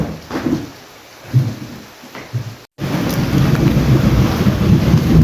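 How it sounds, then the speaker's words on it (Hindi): Low rumbles of thunder roll in short bursts, then a dense downpour of heavy rain takes over as a steady close hiss for the rest of the clip, with no voices. "बहुत ही ज़्यादा बारिश हो रही थी ये"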